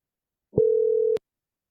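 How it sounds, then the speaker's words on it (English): A phone call to a number, placed through an office phone service, gives one steady electronic tone lasting about half a second with sharp clicks at its start and end, alone in silence. "we're gonna call this number, and this is the number that I send text messages from"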